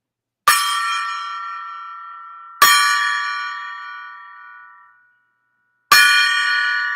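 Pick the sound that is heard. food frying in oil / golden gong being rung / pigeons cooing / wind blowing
golden gong being rung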